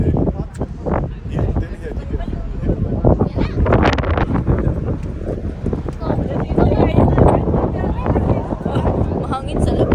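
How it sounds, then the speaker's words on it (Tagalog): Strong wind buffets the microphone on the outer deck of a cruise ship off Norway, a steady roaring gust with rustling bursts throughout. "Mahangin sa labas po."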